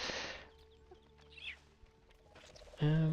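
Bird clucking in the Ice Age 2: The Meltdown PS2 video game, a short burst of clucks and fowl calls at the start with another louder squawk near the end, over faint game background sounds.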